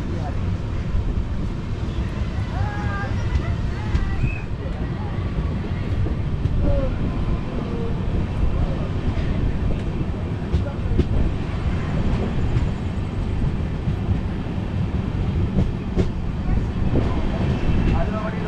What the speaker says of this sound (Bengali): আলুয়াবাড়ি রোড থেকে আমাদের ট্রেন কিন্তু ছেড়ে দিল।